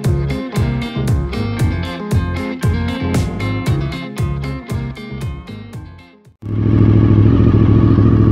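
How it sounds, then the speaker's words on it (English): Motorcycle engine warming up after sitting unused for a while, running loud and close with a steady rapid chugging idle that clatters unevenly, then settles into a continuous smoother drone near the end. "I got the bike out here warming up"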